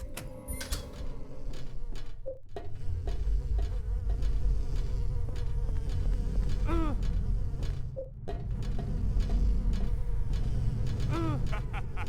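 Buzzing insects in the Silent Hill game drone steadily and close, a continuous whine that swells as bugs dart past, with occasional creaks and ticks beneath the hum.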